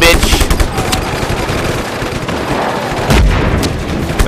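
Rapid gunfire from the action game Just Cause 3, dense bursts of shots and booms crackling nonstop throughout, loud and close, with a sharper burst near the end.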